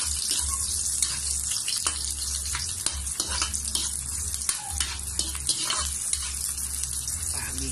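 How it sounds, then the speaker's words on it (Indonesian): Garlic sautés in a pan for beef nilaga, a steady close sizzle and crackle with stirring scrapes and small pops throughout, and no talking. "Gigisahin lang natin ito guys."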